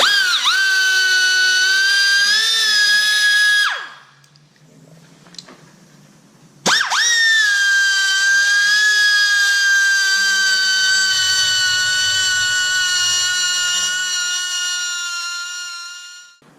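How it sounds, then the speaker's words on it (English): A high-pitched die grinder with sanding stones whines steadily while sharpening knives from a Hesston 1837 inline baler, cutting out briefly partway through before spinning back up and running on, loud and close. "Can't believe how good them little sanding stones did."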